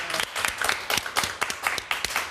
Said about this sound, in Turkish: Geliniz bir güzel bir alkış alayık